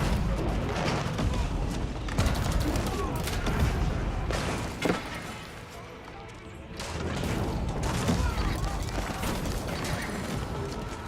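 Culverin cannons fire during a busy Age of Empires 4 battle, with booming blasts and mechanical clatter mixed into dense, continuous combat noise at a steady, loud level.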